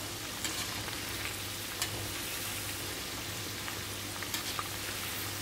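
Sooji dahi vada fritters fry steadily in hot oil, giving a continuous dense sizzle with scattered small crackles and pops throughout, with no voices.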